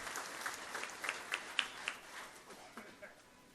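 Audience applause at a book launch gathering, faint and distant, a steady patter of many hands with a few sharper claps standing out near the middle, fading toward the end.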